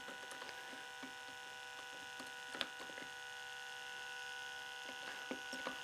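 An electric hair clipper runs steadily with a constant mains-like hum while a blade is swapped during a haircut on curly hair, with light plastic clicks and taps over the drone.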